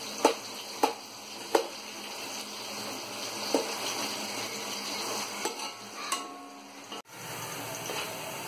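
Two large onions sizzling in hot oil with green chili and curry leaves, a steady frying hiss under intermittent spoon stirs and sharp metallic taps against the pan, close and continuous with no talk.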